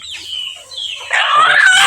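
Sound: desi chicken clucking at home before slaughter

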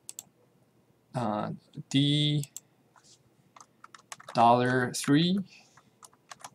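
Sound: typing on a computer keyboard in a spreadsheet

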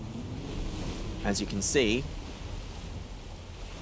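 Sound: ocean waves in video game Silent Hunter 4

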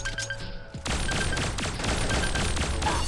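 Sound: gunshots in Pixel Gun 3D video game

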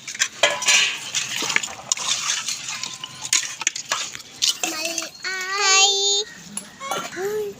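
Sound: stirring mutton curry in pot on wood stove

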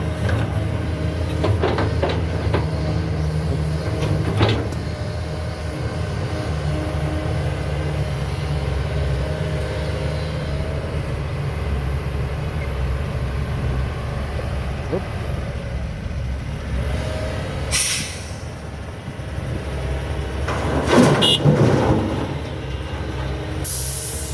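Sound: Kobelco SK200-10 excavator drilling into hard rock

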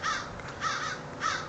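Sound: crows cawing

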